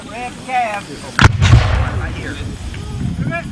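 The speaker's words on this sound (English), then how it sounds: "the gun that just fired to your left is much smaller. It's called a mountain howitzer." A Civil War mountain howitzer fires once at a reenactment, a sharp nearby boom followed by a rolling echo that fades over a couple of seconds, with someone speaking before and after the shot.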